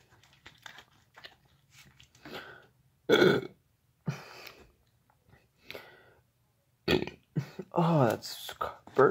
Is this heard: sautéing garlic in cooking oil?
no